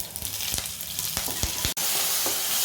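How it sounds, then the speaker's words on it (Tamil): Curry leaves hit hot oil in a pan for onion chutney, a loud continuous sizzle and crackle with a few sharper pops and a brief stirring scrape. "கருவேப்பிலை சேர்த்துக்கிறேன்."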